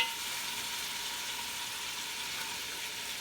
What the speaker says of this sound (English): And we're gonna sear this down.